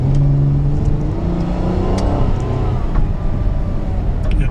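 Honda Clarity plug-in hybrid's internal combustion engine revving up under hard acceleration, a steady loud mid-pitched drone with rising tones from inside the car, no talk.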